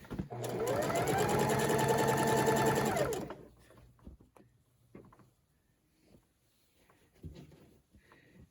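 A sewing machine stitches back and forth to secure a corner of a Christmas table runner, a close rapid mechanical whir for about three seconds, then stops, leaving faint handling clicks and taps.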